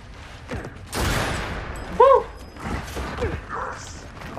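A sniper rifle shot rings out in a Gears of War 4 match, one sharp loud crack amid other gunfire and mechanical clatter, with game noise throughout.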